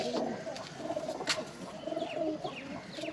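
Pigeons coo repeatedly inside a pigeon loft, soft throaty calls recurring throughout at close range over a low background murmur.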